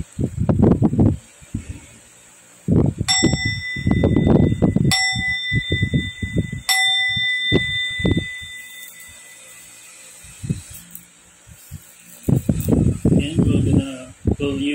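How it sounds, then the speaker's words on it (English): A meditation bell for mantra chanting struck three times, each a clear ringing tone that sustains and fades, heard between stretches of someone talking. "I'm gonna ring the bell, and we'll start our mantra chanting"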